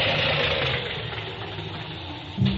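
Misfiring car engine idling as a radio drama sound effect for a Western, a steady mid-range running rumble with uneven vibration, fairly close, alone, ending with a brief low bump.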